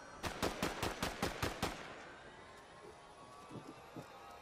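Fortnite gunfire: a rapid burst of about eight sharp shots in quick rhythm, followed by quieter scattered distant shots over faint background noise.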